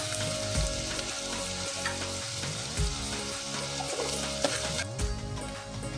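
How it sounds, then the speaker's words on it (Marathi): Finely chopped onions sautéing in a pan as the base for a simple sambar, heard as a loud, continuous frying sizzle with a dense hiss and layered crackle throughout. "आता कांदा छान मऊ होतोवर आपल्याला परतून घ्यायचा आहे."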